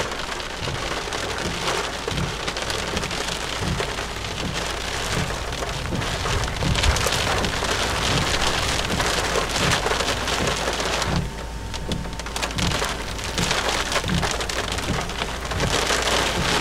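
Heavy rain falls steadily near Jericho, Texas, a dense continuous hiss with drops pattering on surfaces and faint low rumbles of thunder, no voices.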